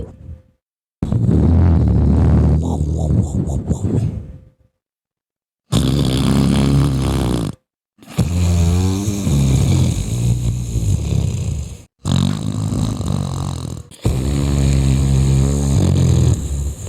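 A person imitates loud snoring, several long, harsh, rattling breaths close to the listener, each lasting a few seconds and separated by brief silences.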